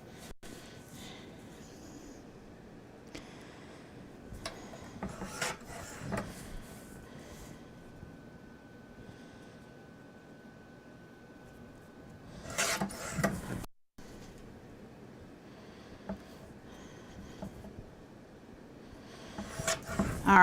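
Scrap paper is cut into a strip for a spring pocket album, with soft rasping and rubbing strokes of a paper trimmer and a few louder scraping bursts amid quiet handling noise.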